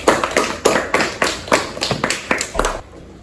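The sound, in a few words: classroom applause for a student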